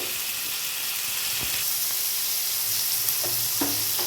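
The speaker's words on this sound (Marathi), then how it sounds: "हे बघा पॅनमध्ये ही मच्छी सोडल्यानंतर गॅसची फ्लेम आपण मीडियमवर करणार आहोत आणि एक दोन मिनटासाठी एक बाजू शिजवून घेणार आहोत" Hapnus fish pieces frying in a pan over a medium gas flame, giving a steady, close, dense sizzle with a few soft clinks and bumps, no talking.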